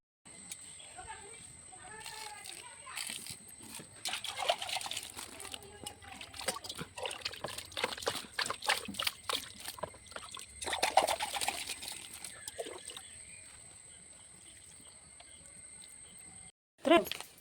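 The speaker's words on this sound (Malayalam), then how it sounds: "ഇനി നമുക്ക് ചെടിക്ക് വെള്ളം ഒഴിക്കാം" Plants are watered by hand at dusk outdoors near a home, with steady splashing and trickling water that rises and falls for most of the stretch. Children's voices and other people talk faintly in the background, and a sharp knock comes near the end.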